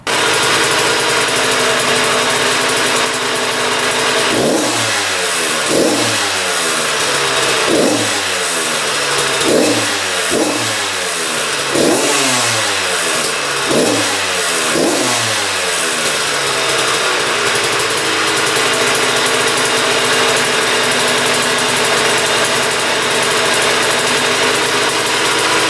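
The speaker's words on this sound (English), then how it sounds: "it's still revving up pretty high" A dirt bike engine, suspected of an air leak, revs repeatedly in sharp throttle bursts over a loud, steady high idle, then settles back to a constant high-pitched hum.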